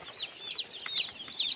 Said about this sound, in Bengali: আমাদের ফার্মে নেমেছে মুরগির বাচ্চা।